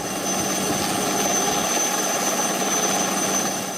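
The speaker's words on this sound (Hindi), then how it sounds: "जहां कोस्ट गार्ड के हेलीकॉप्टर से समंदर में फंसे लोगों को बचाने का काम जारी है।" A coast guard rescue helicopter hovers over the sea, its engine and rotor making a steady, dense roar with a high whine running through it, constant and fairly close.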